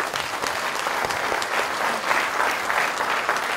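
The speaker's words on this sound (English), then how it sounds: "let's hear a round of applause for Beneva Flowers" An audience at a real estate investors' meetup bursts into sustained, fairly close applause, dense clapping running the whole stretch without a break and only faint crowd murmur underneath.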